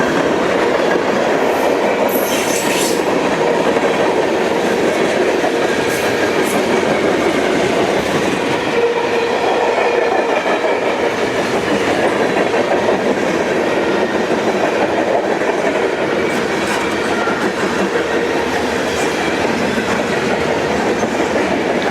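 A freight train with distributed power units rumbles steadily past close by on a Kentucky line, its continuous heavy roar and clickety-clack of wheels filling the whole stretch with no talking.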